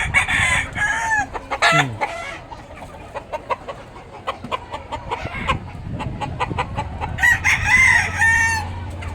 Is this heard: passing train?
no